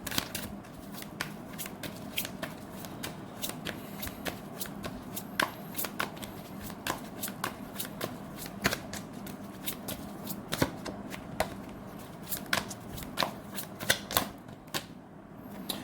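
Tarot cards are shuffled for a reading, with a steady run of close, crisp riffling clicks and card slaps repeating for the full stretch, no voices.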